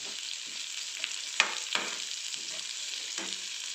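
Onions being sautéed for a hot spicy onion kalsa, a steady soft sizzle in the pan with a few sharper scrapes of a spatula stirring them at close range, no voices.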